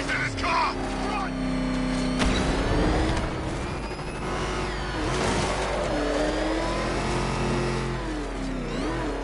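A car engine revs hard and roars in Batman: Arkham Knight, loud and sustained with pitch rising and falling, under shouting voices and game effects.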